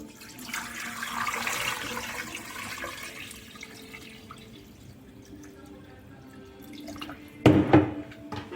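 Water pours into a pot over head meat and two trotters, a steady watery splash and trickle, then a brief louder splash and clunk near the end.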